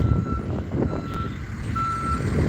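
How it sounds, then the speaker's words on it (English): A bus backing up sounds its reversing alarm, which gives a few spaced, steady beeps over low engine rumble and outdoor background noise. "It's got the beep beeps today."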